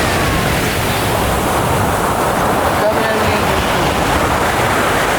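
Ocean waves wash onto a beach in Ilocos Norte, a steady, loud, broadband rush of moderate surf with wind, continuous and without clear breaks.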